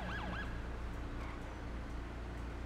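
A wailing emergency siren sweeps up and down briefly near the start, then cuts off, leaving a low rumbling hum.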